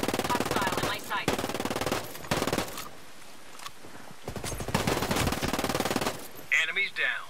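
Enemies fire automatic rifles in Ghost Recon Breakpoint in rapid bursts of gunfire that start and stop across the stretch. The shots sound fairly close, with brief voice callouts in between.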